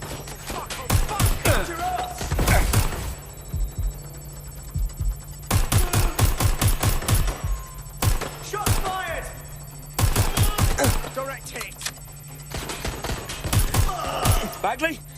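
Gunfire in the video game Watch Dogs: Legion comes in several loud, rapid bursts of sharp shots separated by short quieter gaps, with a low steady hum underneath.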